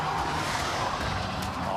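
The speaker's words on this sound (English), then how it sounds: "you can hear those rears just locking up" A race car's rear wheels lock up under braking during a GT Academy driving session, a brief, loud, continuous skid and tyre squeal blended with engine roar.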